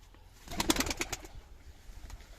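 Pigeons in a loft, racing or tumbler birds kept for flying, give a short burst of soft cooing and wing flutter up close, then settle into faint rustling in the background.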